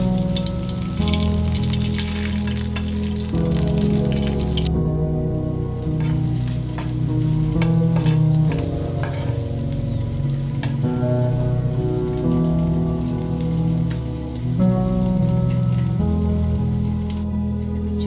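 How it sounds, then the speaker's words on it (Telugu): Dried red chillies fry in hot oil in a pan, a constant close sizzle with fine popping crackles and a low steady hum underneath, and no voices. "ఆయిల్ వేడిన తర్వాత ఎండుమిర్చి ఫ్రై చేసుకోవాలి"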